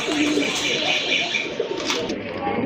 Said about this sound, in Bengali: বিগ সাইজের এক জোড়া কবুতর